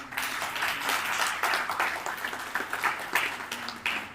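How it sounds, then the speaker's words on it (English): An audience at a literature festival in New Delhi applauds after a poetry session, a sustained round of many hands clapping at moderate loudness, with no talk over it. "Maybe have a loud round of applause"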